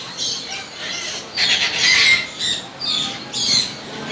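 Moluccan cockatoo, one of a breeder pair at a bird market, giving repeated harsh, loud squawks in short bursts close to the listener, with faint background voices.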